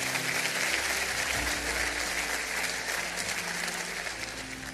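Church congregation applauding during a sermon, a dense steady clapping from a crowd that fills the room and fades slightly toward the end.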